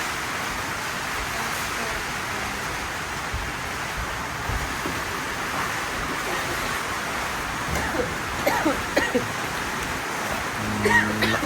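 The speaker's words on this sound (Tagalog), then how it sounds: "Lakas ng hangin tsaka ulan." Heavy typhoon rain and strong wind make a dense, steady hiss throughout, close and continuous, with a few faint voices near the end.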